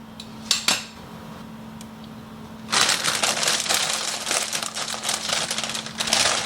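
A couple of light clinks, then ingredients such as kale tipped into a pan, making a dense rustling, crackling clatter that carries on steadily, close and fairly loud with no talking.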